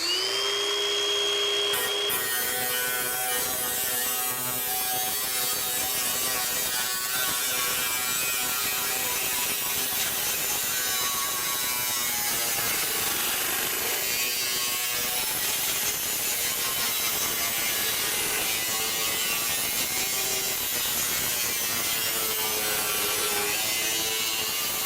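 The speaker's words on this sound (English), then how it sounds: "And then let's go to a grinder." Angle grinder slicing through sheet metal roofing, a steady high-pitched whine and rasp that runs almost continuously and loudly for the whole stretch with only small shifts in pitch.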